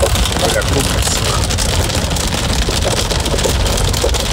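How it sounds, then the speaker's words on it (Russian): Hail pelts a BMW 750Li on the highway, a dense, loud, continuous rattle of hard pellets drumming on the car body with no pauses. "Это град."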